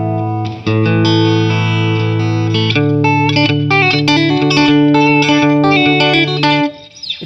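Paul Reed Smith HX 100 guitar amp with its bright switch all the way up, sustained electric guitar chords and single notes ringing out loud and continuous, with crisp treble and a brief decay at the end, no talking.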